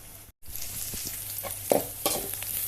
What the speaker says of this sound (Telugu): ఎర్రగడ్డలు బాగా ఎర్ర ఎర్రగా మగ్గనిద్దాము